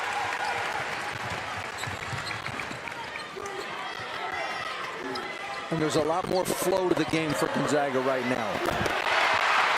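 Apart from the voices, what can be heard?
sold-out basketball arena crowd cheering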